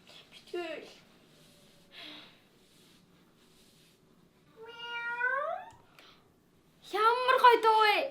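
A cat meows in a few separate calls, one rising and falling cry in the middle and a loud drawn-out wail at the end, with short quiet gaps and a soft breathy sound between the calls.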